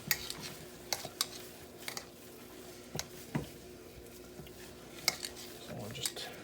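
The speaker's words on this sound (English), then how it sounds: "So we're just mixing the seasoning in there, making sure that we get it all in, get it nice and even throughout the meat." Epicure Donair seasoning being mixed by hand into ground meat, with soft, squishy kneading and occasional light clicks and knocks against a bowl, close but fairly quiet.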